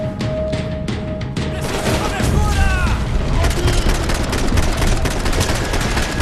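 Gunshots during slowed-down bullet time in the video game Max Payne 3, a loud, dense barrage of booming, smeared shots and explosions over a constant rumbling backdrop.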